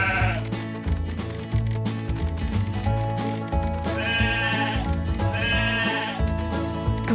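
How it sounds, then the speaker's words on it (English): Cartoon sheep in a Paw Patrol learning game bleat repeatedly over bright, looping game music. The bleats stand out clearly in the mix. "I'm looking for these sheep."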